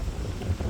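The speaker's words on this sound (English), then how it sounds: "You have to excuse the wind, folks, it's quite a windy day." Gusting wind buffets a microphone outdoors on a windy day in the Scottish Borders countryside, a steady low rumbling roar filling the whole brief moment with no voice over it.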